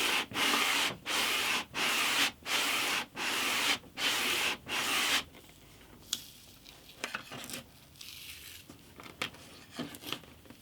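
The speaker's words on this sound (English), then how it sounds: "So a little bit more sanding to do." Rhythmic back-and-forth strokes of hand sanding a wooden guitar fretboard with 150 grit sandpaper, about eight scratchy passes close up, then quieter scattered rubbing and handling sounds.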